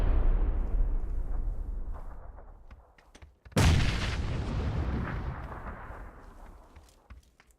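A grenade blast in a competitive shooter match booms loudly after a sustained rumble of gunfire and distant explosions that fades away, then the sharp burst itself decays slowly into a long rolling tail.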